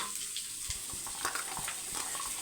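Onions frying in a pan for a Tamil home-cooked meal, a steady soft sizzle with occasional stirring clicks, close and fairly quiet, no talking.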